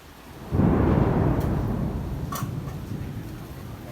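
A deep roll of thunder bursts in and rumbles on for several seconds during heavy rain, slowly fading beneath a steady wash of storm noise.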